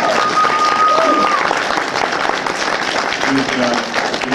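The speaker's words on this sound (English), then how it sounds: "can I get a round of applause for feedback for saving the heroes?" Audience applause at a Mid-Ohio Con superhero panel, a steady wash of clapping from the crowd with a few cheers and whistles mixed in, carrying on loud and even throughout.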